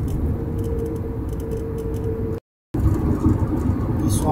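Vehicles overtake on the BR-153 Belém–Brasília highway in Brazil, making a steady, loud roar of engines and tyres with a brief dropout in the middle.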